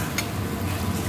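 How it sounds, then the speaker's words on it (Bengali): Paneer in a sauce with green chilli, honey and salt being stirred in a pan, a brief dense sizzle with one light scrape near the start. "এটাকে ভালো করে কষে নিচ্ছি"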